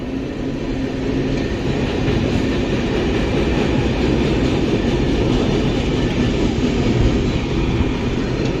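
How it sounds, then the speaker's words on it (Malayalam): A train rumbles past close by, a loud continuous roar with rhythmic wheel clatter throughout and no voices. "ഇതേ ഒരു ട്രെയിൻ ഇതുവഴി കടന്നു പോകുന്നുണ്ട്."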